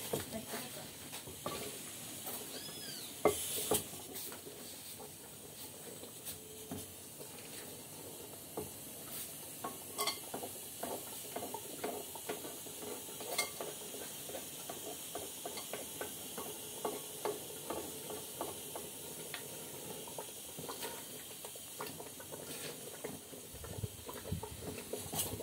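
Spoon stirring a flat pan of butter being rendered at a rural farmstead in Pernambuco, steady scraping and light sizzling throughout, close and moderately loud with no talk.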